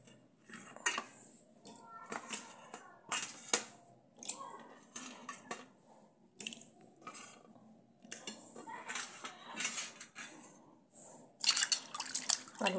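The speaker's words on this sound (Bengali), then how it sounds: "আলুটাকে ভালো করে ধুয়ে নিই" Potatoes being washed by hand in water, with splashing, dripping and light knocks against a metal pot or bowl in a kitchen, steady and close, no talking.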